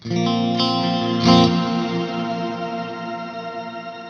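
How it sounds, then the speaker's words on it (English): An electric guitar through a Fender Tone Master Pro's celestial reverb strums sustained chords drenched in lush, shimmering reverb, the notes washing out into a long, fading tail. "we can still do this celestial reverb"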